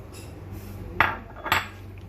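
Almonds go into a dish of Russian salad with two sharp, close clinks about half a second apart over a steady low hum, and no talking.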